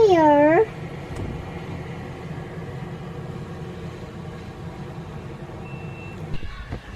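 An indoor cat lets out one loud, upset, drawn-out meow that fades into a steady low mechanical rumble of outside noise, with a faint beep later on.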